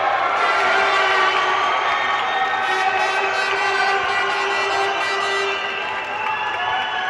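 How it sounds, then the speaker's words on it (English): A loud home crowd roars and cheers continuously after a Greek competitor's ippon at a cadet judo European Championships, a dense sustained wall of shouting and whistling filling the arena. "the home crowd is celebrating for a great ippon by one of the Greece competitors. That's why the loud background noise"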